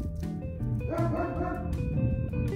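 A dog yips and barks close by during a bath, short sharp calls over running water and soft, continuous background noise.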